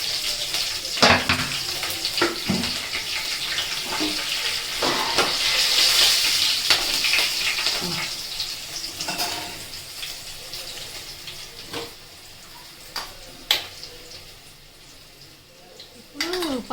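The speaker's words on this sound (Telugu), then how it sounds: "వంకాయలు తీసిన నూనెలో పచ్చికాయలు, కల్లేమాకు అన్నీ నూనెలో వేయించుకోవాలి." Green chillies and curry leaves frying in the brinjal-frying oil for gutti vankaya curry, a steady sizzle under repeated stirring and scraping clicks from a spatula, with faint water and sink noise at times.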